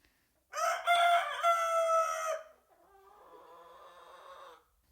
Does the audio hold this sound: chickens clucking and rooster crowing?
yes